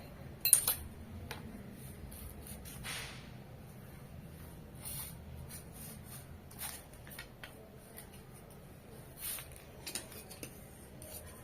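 Scissors cut through blouse cloth in sparse, quiet snips and clicks, with a sharper cluster near the start and scattered cuts after it against a hushed room.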